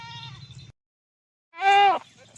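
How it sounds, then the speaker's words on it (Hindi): A goat among nanny goats with kids on a farm bleats once, loud and close, a short wavering cry after a brief stretch of quieter sound and silence. "ये नंबर 4 बकरी ये आ रही है"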